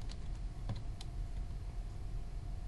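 Sparse keystrokes on a computer keyboard while entering a value into AutoCAD 2020: a few quiet, separated clicks over a low steady hum.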